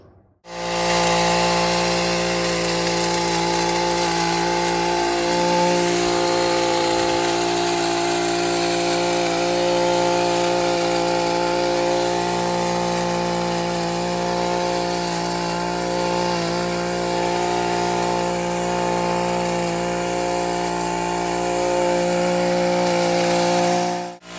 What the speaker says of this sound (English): This is an extreme case to actually take the head shears to it